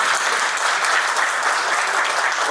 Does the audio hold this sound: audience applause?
yes